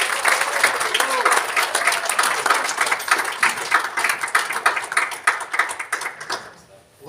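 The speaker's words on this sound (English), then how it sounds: "Put your hands together for Fadi Baba." An audience at a community event in Victoria gives dense, loud applause for several seconds, then it thins out and fades near the end.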